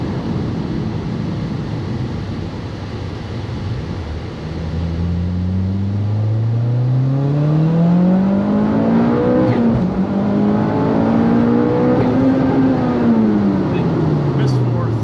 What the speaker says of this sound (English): it's got that loud exhaust,